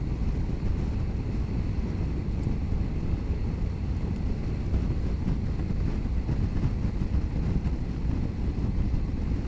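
A Honda NC750X motorcycle cruising at 70 mph on a dual carriageway, heard as a loud, steady roar of wind buffeting over a low engine rumble, continuous with no talking.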